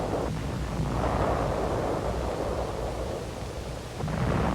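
An improvised explosive charge packed in a 5-gallon gasoline can blasts an enemy position during 1945 combat on Luzon, giving a sustained, heavy low rumble that stays loud throughout, swelling slightly again at the end.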